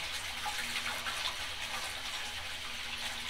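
Water runs steadily from a tap while orange paint is rinsed out with soap during paint shop cleanup, a continuous close hiss with no voices.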